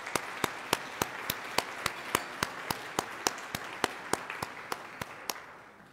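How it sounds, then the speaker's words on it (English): Audience clapping at a university research symposium, sounding as sharp, evenly spaced claps in a steady rhythm that stay crisp and fairly close before fading out at the end. "Please give both my OSP team and the symposium planning team a round of applause."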